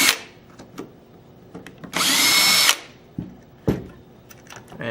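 Power driver loosening the tank adapter bolts on an Alpha Black paintball marker, a loud, sustained whir of about a second in the middle, set between scattered clicks and clatter of metal parts being handled up close.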